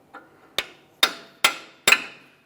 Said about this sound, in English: we need a hammer and punch directly in the center of the axle shaft